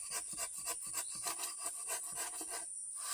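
Rhythmic rasping strokes of sandpaper rubbing back and forth on wood, close and fairly quiet, about a dozen strokes before a short pause.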